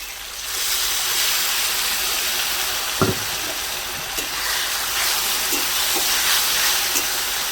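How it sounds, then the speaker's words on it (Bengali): Ginger garlic paste frying in a pan for village-style egg curry, a steady broadband sizzle and hiss that runs the whole time with a few faint clinks, close and fairly loud. "আদা রসুন পেস্টটাকে ভালো করে কষিয়ে নেব যতক্ষণ গন্ধ না যাবে ততক্ষণ ভাজবো আমি"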